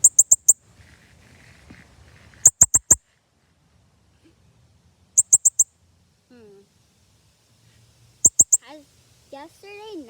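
A bird lets out loud, close, sharp chirps in quick bursts of about four, repeated every few seconds, with a few softer whistly calls and brief talk between them.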